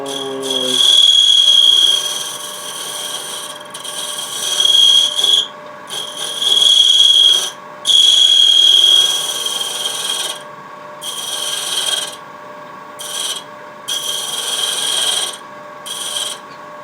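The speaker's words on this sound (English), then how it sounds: "I'm going to use the negative rake scraper to try to soften this, clean up this curve here." Negative rake scraper cutting a fluted wooden pot on a lathe, a steady rasping scrape in several bursts over the low hum of the spinning lathe, with brief pauses between passes.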